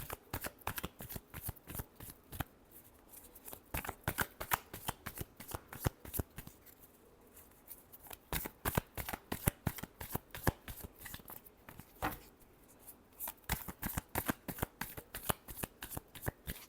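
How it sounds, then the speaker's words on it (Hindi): Tarot cards being shuffled in steady rapid riffles, crisp close flicking and slapping that repeat without pause for the whole stretch, with no voice over them. "Last shuffle."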